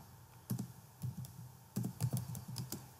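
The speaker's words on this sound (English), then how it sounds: "so you can type right now" Keys on a computer keyboard clack in short, irregular bursts of a few strokes each, close and fairly quiet, with no voices.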